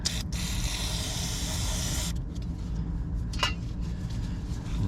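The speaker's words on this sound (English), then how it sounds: "A little brake cleaner." Brake cleaner hisses out of an aerosol can onto an engine block in a steady two-second blast, stops abruptly, and then a short quieter spurt follows against a low background hum.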